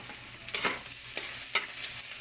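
Garlic and onion sauté in a pan, a steady close sizzle with a few stirring scrapes, continuous and moderately loud with no talking.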